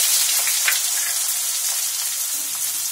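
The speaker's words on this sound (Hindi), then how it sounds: "1 या 2 मिनट तक प्याज और हरी मिर्च को फ्राई करेंगे।" Chopped onion and green chillies fry in a pan with a steady, dense sizzle and faint crackles, close and continuous throughout with no talking.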